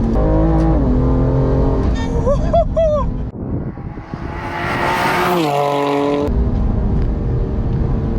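A BMW M2 being driven hard on a winding road roars loudly with rising revs, quick gear changes and a lift-off lull before pulling again, close and dominant throughout.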